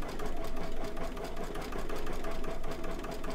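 An embroidery machine, a Brother NQ700E, stitching a design onto a Christmas shirt, giving a steady, fast mechanical whirring with a rapid needle rhythm, loud and continuous throughout, with no talking.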